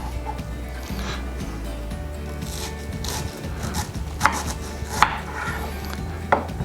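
Knife slicing cabbage very thinly for vinegar coleslaw, a steady run of soft cutting strokes with a few sharper knocks on the board, close and moderately loud.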